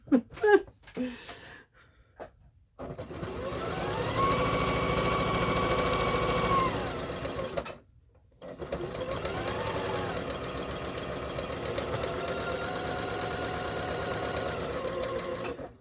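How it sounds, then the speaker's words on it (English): A sewing machine with its bobbin almost out of thread runs in two long bursts with a brief pause between them, a steady close whirring hum with a rising and falling whine, after a few clicks at the start. "My bobbin's making that noise when it's almost out."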